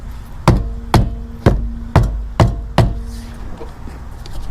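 A mallet strikes a car wheel six times in a steady rhythm to break it loose, each blow a sharp, loud, ringing knock with a short metallic tone trailing after it, then quiet.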